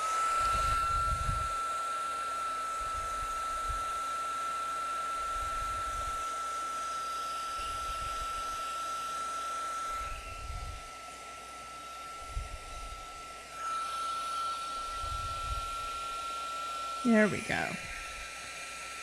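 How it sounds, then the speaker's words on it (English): A heat tool blows steadily while melting embossing powder on wet ink for a raised, shiny finish, its whirring hum pulsing on and off in short bursts, with a brief spoken remark near the end. "So you just want to heat it up until everything gets all nice and shiny"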